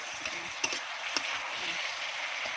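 Chopped onions sizzle and fry steadily in a pan with chicken and cashews for a Thai stir-fry, a continuous hiss with a couple of faint clinks of utensils.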